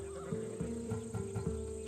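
A warhorse of a Macedonian breed in Assassin's Creed Odyssey gives a short whinny with a few clip-clop hoof sounds, close and clear with no talking, over a steady tonal hum from the game.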